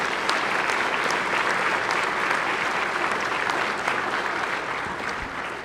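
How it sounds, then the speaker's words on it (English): Sustained applause fills the state senate chamber for visiting Dole Middle School students. It is a dense, steady wash of many hands clapping at an even level throughout and easing off slightly near the end. "Can we have a round of applause for them?"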